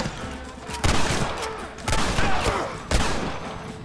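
Gunfire in the video game Red Dead Redemption, three loud sharp shots spaced about a second apart over a rumbling battle background, close and punchy with no talking.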